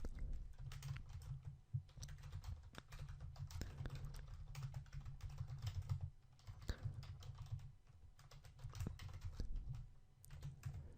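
Code being typed on a computer keyboard, a close, continuous run of quick uneven keystrokes with brief pauses and occasional heavier key presses, no talking.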